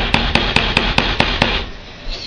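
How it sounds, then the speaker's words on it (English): Hammer driving a nail into a wooden board: about seven sharp, evenly spaced strikes follow one another quickly, close and loud, before the sound fades into quiet room noise. "You hit the thicker end with the hammer, and this causes the thinner end to be pushed into the board."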